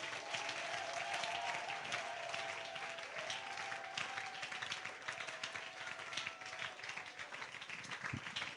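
A church congregation applauds in a dense, sustained roar of clapping that runs steadily for several seconds, with a faint tonal hum underneath and no voices.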